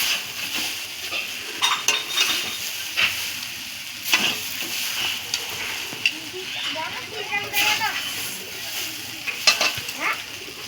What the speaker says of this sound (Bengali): সবজি মশলা মিশিয়ে দিচ্ছি, ভালো করে সবজি মশলাটা মিশিয়ে দিলাম